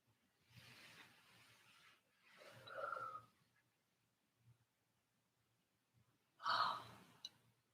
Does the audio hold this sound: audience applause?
no